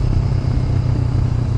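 A 2014 Honda CB500F motorcycle rides along, its engine giving a close, steady low rumble with clattering texture and constant loudness over a brief stretch.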